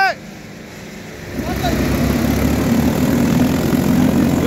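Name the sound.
Mahindra tractor engine started and running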